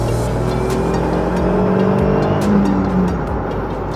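Caterham Seven 170S sports car cornering under power on a road trip, its engine a steady, loud close drone with a slight rise in pitch and faint tyre noise, no talking.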